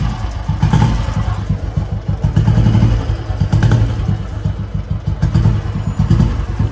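A motorcycle engine runs loud and close on a city outing in Ludhiana, a steady throbbing idle with rhythmic mechanical chugging and a slightly rising rev, with no talk.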